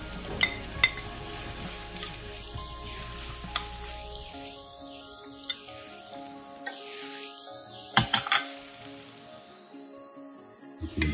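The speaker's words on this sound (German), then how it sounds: "Alle Zutaten werden in Olivenöl kurz angeschwitzt. Wir beginnen mit den Zwiebeln." Onions sauté in olive oil in a pan, a soft steady frying hiss broken by occasional clicks and scrapes from stirring, with no voices.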